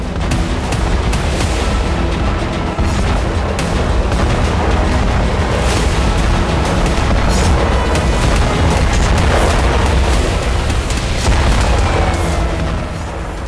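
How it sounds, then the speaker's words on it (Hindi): Large blasts from Ukrainian drone strikes on oil refineries and gas pipelines, a loud sustained roar of explosions and rumbling booms with crackling bursts, close and continuous. "यूक्रेन के ड्रोन से बड़े धमाके और रूस को बहुत बड़े नुकसान की वजह है यूक्रेन की रणनीति।"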